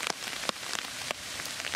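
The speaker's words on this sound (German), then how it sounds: "der Regen tut echt gut." Rain from a thunderstorm patters steadily on a surface, with scattered louder drops standing out against the soft, continuous hiss. Quiet and without voices.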